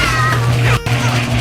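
A kitten meowing close and loud, with drawn-out plaintive cries broken by a brief pause and set against a steady low hum.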